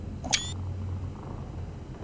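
A ghost cat in the video game Cyberpunk 2077 lets out one short, bright meow early on, followed by faint in-game background hum.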